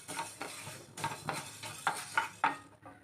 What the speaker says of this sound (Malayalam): നമ്മുടെ ഉലുവ വറുത്തെടുത്തിട്ടുണ്ട്